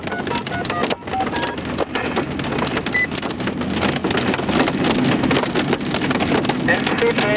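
Large hail, baseball-sized or bigger, pounds a storm-chasing vehicle during a severe thunderstorm, a dense, loud, nonstop rattle of sharp impacts with wind rushing steadily underneath.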